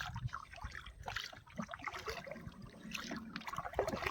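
Water sloshing and trickling as mud is washed off freshly caught crabs outdoors, irregular splashes and dribbles, faint and close.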